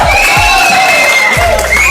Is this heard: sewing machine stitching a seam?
no